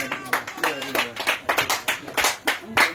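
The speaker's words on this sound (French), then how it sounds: "On acclame le Seigneur pour sa vie." A church congregation at a testimony and deliverance prayer service claps in a brisk, uneven rhythm, the hand claps close and fairly loud, with voices mixed in beneath.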